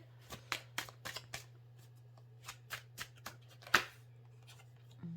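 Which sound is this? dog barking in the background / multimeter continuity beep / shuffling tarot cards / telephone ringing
shuffling tarot cards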